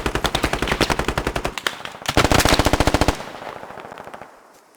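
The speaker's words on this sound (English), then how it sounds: "Machine gun around Charlie." Machine gun fire in the Squad military shooter game: rapid, loud, evenly spaced bursts in two long strings with a short break between them, then fading into a quieter trailing echo.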